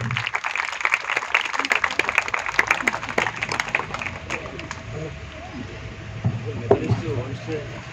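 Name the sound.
audience applause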